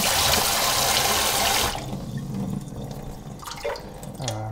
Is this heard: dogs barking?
no